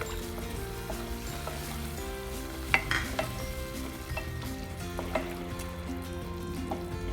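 Mango ginger pickle sautéing in oil with chilli powder gives a steady, close sizzle, with spoon scrapes and a few sharp clinks against the pan.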